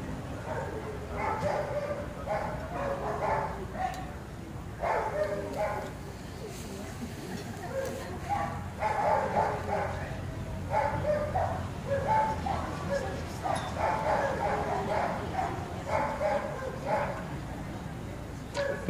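A police detection dog barks in repeated bursts through a training demonstration, sharp barks spaced at irregular intervals, fairly close, with occasional yips.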